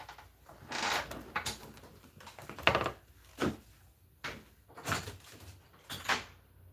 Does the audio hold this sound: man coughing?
no